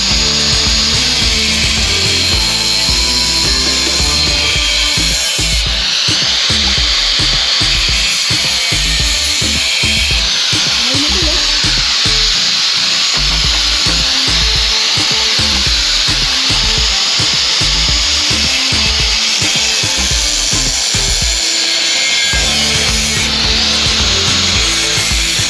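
A power grinder works on wood for a loft, a loud, continuous abrasive whine and rasp that changes pitch as it bites and eases, running the whole time with no pause.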